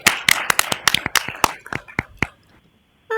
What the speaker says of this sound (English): but we already did that, so we'll clap anyway.